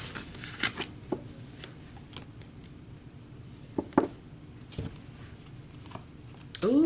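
Tarot-style energy cards being shuffled by hand, a soft papery riffle and patter running steadily throughout at close range, with a few sharper card slaps and faint background noise.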